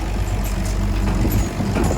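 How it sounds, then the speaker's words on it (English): A farm wagon ride gets underway, with a steady, loud, low engine rumble, like a tractor or truck idling and pulling off, filling the whole stretch without talk. "Let's get on the wagon and go for a ride"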